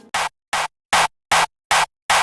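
Six evenly spaced hits of a distorted hardstyle punch layer built from a clap and kick in FL Studio, each a harsh, noisy burst separated by silence.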